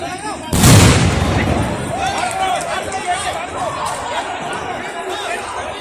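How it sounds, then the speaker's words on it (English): Tear gas shells fired by police to disperse an irate protesting crowd outside a hospital: a loud boom near the start, then a noisy crowd with shouting and chatter continuing throughout. "police had to resort to tear gas shelling to disperse the irate crowd"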